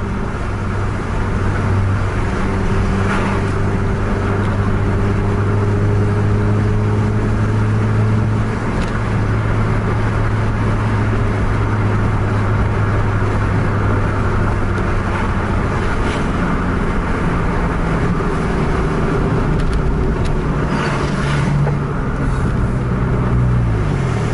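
A Scania K-410 bus engine drones low and steady at close range, its pitch climbing as it revs, dropping at a gear change, then rising again, with road noise throughout.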